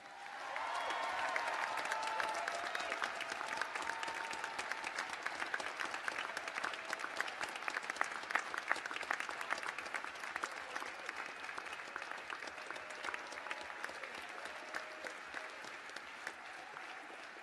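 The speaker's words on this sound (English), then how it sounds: "A huge and hearty round of applause for yourselves." A graduation ceremony audience gives a long, sustained round of applause, a dense, even wash of many hands clapping that holds steady from start to finish.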